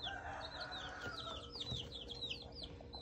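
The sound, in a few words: newly hatched chicks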